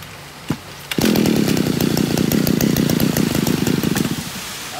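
A TD33 grass trimmer's two-stroke engine starts after a brief pull and runs steadily at close range for about three seconds with a buzzy, chainsaw-like drone, then cuts off.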